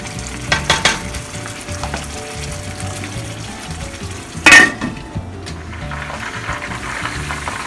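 Golda shrimp curry with green chillies sautéing in a pan, a steady close sizzle and fry broken by spoon stirs and clanks against the pan, with one sharp metallic knock midway.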